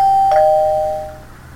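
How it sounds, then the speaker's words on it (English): A doorbell from the Minecraft furniture mod by Mr Crayfish rings once, a loud, clean electronic ding-dong with two tones that fade out smoothly, heard alone. "This is the doorbell."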